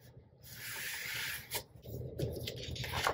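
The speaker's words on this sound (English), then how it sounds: "grab a squeegee, just push down because you want it as flat as possible" A squeegee rubs and presses sublimation paper flat against a 30 oz tumbler, giving soft, close scraping and rubbing strokes with brief pauses and small squeaks between them. No one talks.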